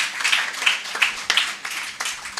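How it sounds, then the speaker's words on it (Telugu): A church congregation bursts into a short round of applause, with dense, uneven clapping that rises and falls in several waves over a couple of seconds and no voices on top. "చప్పట్లు కొట్టండి ఒకసారి"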